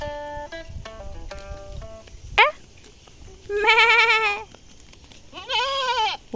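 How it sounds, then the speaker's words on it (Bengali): A goat bleats repeatedly in a green village setting, with sharp nasal calls close by, separated by short pauses and a brief clatter between them. "আর একজন ছাগল কি করছে দেখো দেখি ছাগলটা"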